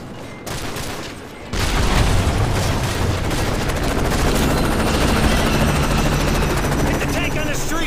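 An A-10 attack jet makes a gun run on tanks in Call of Duty: Modern Warfare 3, unleashing a long, loud, continuous buzzing roar of cannon fire that starts abruptly and keeps going over heavy battle noise.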